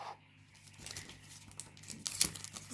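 Paper packaging crumpled and torn while unboxing a penguin figure, a soft continuous crinkle that rises into a louder crisp rustle near the end, close by with no talking.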